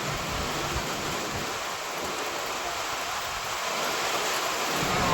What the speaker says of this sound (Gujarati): મસ્ત વરસાદ પડે છે.